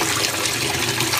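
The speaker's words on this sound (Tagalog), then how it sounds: "Tapos maglalagay po tayo ng tubig" Water is poured from a tap onto rice soaking in a bowl for putong bigas, giving a steady, close splashing rush without talk.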